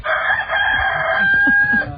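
A rooster crows once in a long drawn-out call, fairly close and clear, with faint clucking and farmyard noise underneath.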